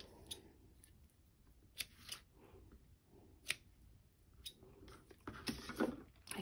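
Scissors snip the ribbon tails of a bow in several separate crisp cuts, close up and fairly quiet, with a quick run of rapid snips near the end.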